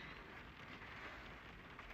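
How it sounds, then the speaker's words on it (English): Rain falling on a car while someone sits inside, a faint, steady, even patter with no voices. "I'm sitting in my car as it rains"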